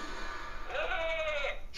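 A sheep-like enemy creature in the Skylanders video game lets out a single short, wavering bleat, heard quietly against low background game noise.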